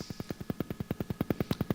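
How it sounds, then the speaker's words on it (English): A faint, steady alpha brainwave pulsing tone that throbs rapidly, about ten beats per second, in an even rhythm. "If you could hear your brain at alpha, it sounds like this."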